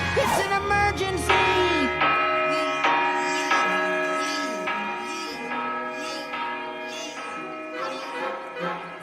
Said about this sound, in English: It's the town bell!